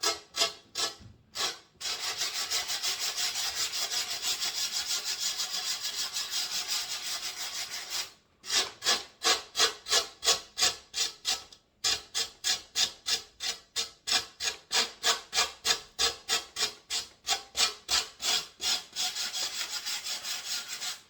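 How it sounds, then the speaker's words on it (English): Steady back-and-forth scraping of a glass mirror's edge being sanded, close and rhythmic, with a few short pauses between runs of strokes; no voices. "I finished sanding the mirror"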